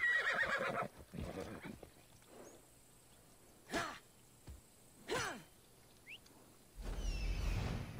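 A horse in Assassin's Creed Odyssey neighs at the start, then snorts and blows sharply a few times amid quiet gaps, with a rumbling burst of movement at the end.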